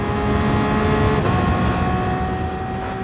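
Race car engines drone steadily in GT Sport as cars run close together through a corner exit, the tone shifting as one car pulls past, loud and continuous with no talking.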